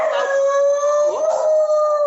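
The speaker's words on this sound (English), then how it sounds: "my son's dog likes to howl when sirens are going" A dog howls at a passing siren in a long, loud, wavering tone that holds steady, with a faint siren-like wail behind it.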